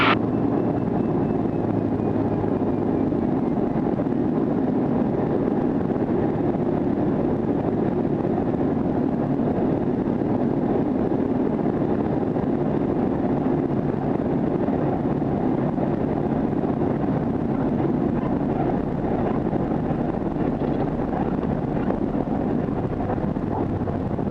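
Steady, broadband drone of a small plane in flight on a gusty crosswind day, engine noise and wind buffeting blending into one constant roar that fills the whole stretch without a break.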